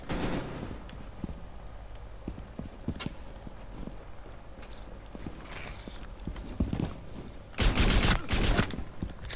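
Scattered sharp pistol shots crack in a Rainbow Six Siege match, spaced irregularly over ambient game noise, followed by a louder, denser cluster of rapid shots near the end.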